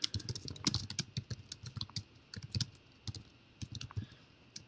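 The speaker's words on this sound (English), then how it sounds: "I could type this kind of stuff in here as we go." Someone types on a computer keyboard in quick, uneven bursts of close, crisp key clicks, alone with no talk.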